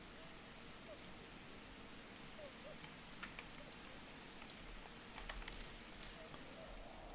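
Rain falling in The Universim video game, a faint steady patter of rain with a few light ticks and scattered sharper drops across the span.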